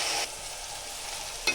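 Carrots and beans fry with turmeric in a pan, a steady close sizzle with a light stir at the start and a brief clink near the end.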